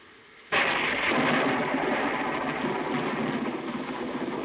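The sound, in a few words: thunder during a thunderstorm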